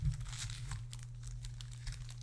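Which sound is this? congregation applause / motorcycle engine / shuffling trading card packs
shuffling trading card packs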